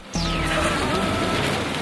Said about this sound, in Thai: ฝนตกหนักมากครับ